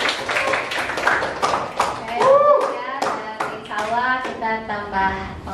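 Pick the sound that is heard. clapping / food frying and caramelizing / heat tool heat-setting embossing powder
clapping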